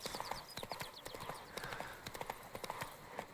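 Roach the horse trotting in The Witcher: rhythmic clip-clop of hooves in a steady gait, fairly close, over a soft ambient bed with a faint voice and a brief whinny-like tone.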